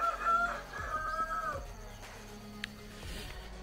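A rooster crows loudly near the start on a Brazilian smallholding farm, with chickens clucking around it and faint farmyard background afterward.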